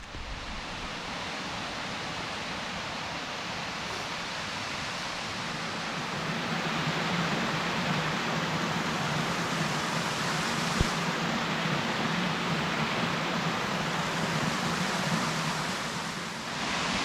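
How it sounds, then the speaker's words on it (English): Waterfall in the Pennsylvania Grand Canyon gorge at Colton Point State Park on a January day, a steady broad roar of falling water that swells slightly louder midway, continuous and close, with no voices. "Made it to the waterfall as we descend into the gorge here"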